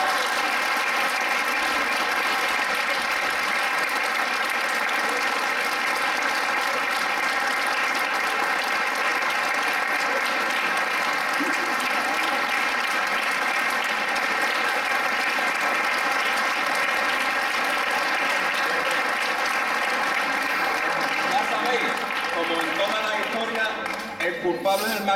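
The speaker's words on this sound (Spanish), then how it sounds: "Un aplauso para él." An audience at a theatrical performance in a palace in Zafra claps in sustained, dense applause that stays loud and even for about twenty-five seconds before thinning at the end.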